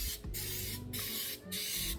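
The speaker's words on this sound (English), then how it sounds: "I'll spray that whatever way you want to so it won't stick." Vegetable oil sprayer misting a muffin tin in three short hissing bursts with brief pauses between them, close and fairly soft.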